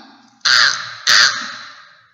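A crow gives two loud, close caws about half a second apart, each trailing off, with nothing else heard.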